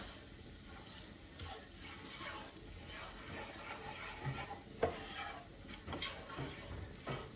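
Pork being stirred in a frying pan: soft, steady sizzling with scattered scrapes and clinks from the utensil against the pan, quiet and close, with no talking.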